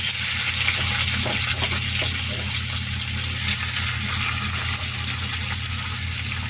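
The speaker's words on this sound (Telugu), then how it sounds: "జీలకర్ర దీంట్లో వేగినాయి ఉల్లిపాయలు వేసుకుందాం" Steady, dense sizzle of sliced onions dropped into hot oil with cumin seeds in a pan, continuous and close, with a low hum underneath and no talking.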